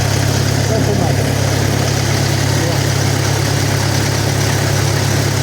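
A vehicle engine runs steadily with the rear half-shaft removed, driving on the front axle only; a continuous close-up drone with no breaks.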